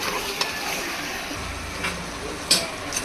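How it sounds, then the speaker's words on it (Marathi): Chicken being stir-fried in a pan for a Marathi-style chicken pulao, with a steady loud sizzle and a few sharper scraping clinks of the spatula as the pieces are turned. "पाच ते दहा मिनिटे आपल्याला असं सारखं परतवत राहायचं आहे चिकन म्हणजे कसं छान फ्राय होईल चिकन"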